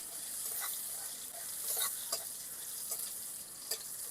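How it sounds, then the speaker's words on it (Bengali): Onion frying lightly in a pan for a Bengali loitta fish dish, a steady close sizzle with faint stirring clicks and scrapes throughout. "পেঁয়াজটা আমি হালকা করে ভেজে নেব"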